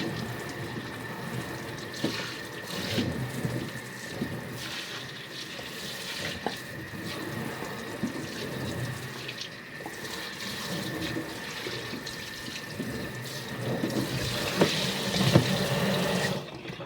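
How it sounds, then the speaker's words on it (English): Hot water runs steadily from a tap into a utility tub, rinsing it with a continuous rushing splash and occasional clatters, close and even throughout with no talking. "now I'm going to rinse the whole thing with hot water"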